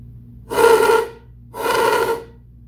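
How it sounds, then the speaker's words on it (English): Two breathy bursts of air blown through the straw of a homemade balloon bassoon, each about half a second long, a hissy rush with no real tone, close and moderately loud. "If you just blow into the straw, you'll probably get a sound like this."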